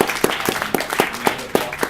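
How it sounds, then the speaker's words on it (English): A small crowd at an indoor event gives a brief round of applause for an events director, with sharp claps in a quick, fairly even rhythm and no talk. "Let's give a round of applause to"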